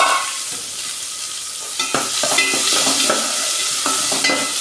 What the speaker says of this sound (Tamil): தட்டி வச்சுருக்கிற பூண்டும் வெங்காயமும் போட்டுக்கலாம் சின்ன வெங்காயம் தான் போட்டிருக்கோம்